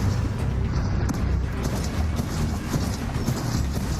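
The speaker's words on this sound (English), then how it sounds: "Oh God, the horse is back." Horse hooves clip-clop steadily over a rumbling low background in a video game trailer shown at a Sony E3 2016 conference, a continuous fast gallop with no clear talk on top.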